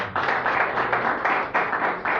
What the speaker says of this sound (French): Et j'aimerais vraiment qu'on puisse applaudir chaleureusement cette invitation-là.